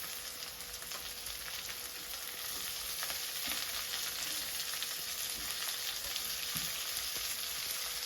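Chopped carrot and capsicum fry in a pan with onion, giving a steady, even sizzle that continues alone without any talking.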